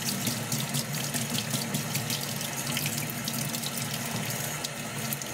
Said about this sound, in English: As I pour this water out here, I watch the direction of the killifish.